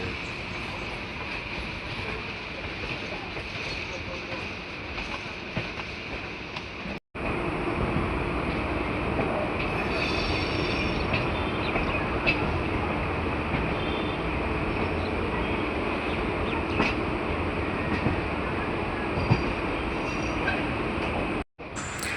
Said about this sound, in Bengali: আমাদের ট্রেন এসে পৌঁছালো মাঝেরহাট স্টেশন